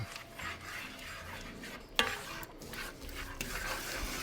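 A spoon stirs and scrapes through a thick pistachio halva mixture of butter and flour in a pan, a continuous close rubbing sound with a sharp clink of utensil against the pan partway through.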